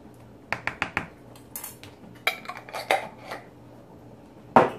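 A small metal spoon clinks and taps against dishes while a half teaspoon of minced garlic is measured out, a handful of light, close clicks spread out and then a sharper final clatter.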